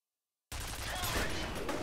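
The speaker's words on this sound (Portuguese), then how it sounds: "Vamos começar o tiroteio aqui." Machine gun fire in the shooter game F.E.A.R. bursts in suddenly after a brief silence as a dense, continuous rattle of shots, loud and close.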